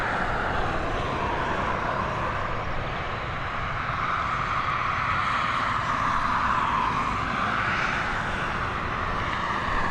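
A Ryanair Boeing 737 departing Dublin for Palermo, heard as a continuous mid-distance jet engine roar with a steady broadband rush and no talk.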